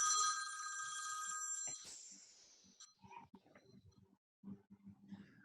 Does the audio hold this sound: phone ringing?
yes